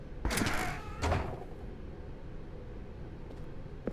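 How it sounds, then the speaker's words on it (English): A door opens in the video game The Stanley Parable Ultra Deluxe: two quick close thumps early on, then a quiet, steady hiss of room tone. "Stanley walked through the red door."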